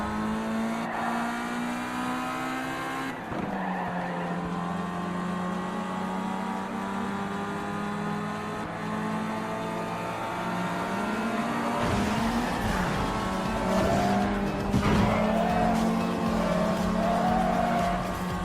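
Racing cars roar through Asphalt 8 on an Android TV box, with steady engine drones that shift pitch as gears change, then tire squeals, skids and revving bursts late in the run, loud and continuous with no talk.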